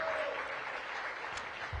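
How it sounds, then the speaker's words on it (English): Audience applause at a topping-out ceremony for a regional medical center, a dense, fairly steady patter of many hands clapping at moderate distance, fading slightly toward the end. "Please give him a big round of applause."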